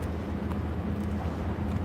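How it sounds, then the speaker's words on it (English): Rear DPU diesel locomotive revving at the DeButts rail yard, heard from a cliff overlook as a steady low, distant engine drone with no talking. "I can hear him revving up the rear DPU."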